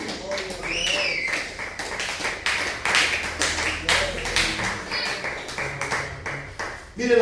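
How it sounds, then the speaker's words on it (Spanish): A church congregation clapping together, dense rhythmic applause with a preacher's voice calling out over it, loud and close, with shouts mixed in. "Aleluya, aplauda el nombre de Jesús."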